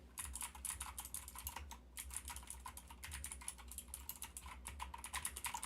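Loud computer keyboard typing, a fast continuous stream of sharp, close clicks with only brief pauses and no voices.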